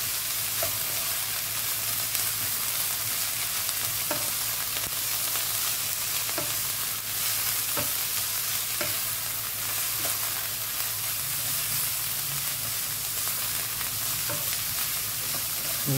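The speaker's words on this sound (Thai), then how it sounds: "ผัดแค่พอกะหล่ำปีมันสลบน้ำมันนะครับ" Cabbage stir-frying in oil in a pan for vegetarian glass noodles, a steady loud sizzle with repeated scraping stirs of the spatula throughout, no talking.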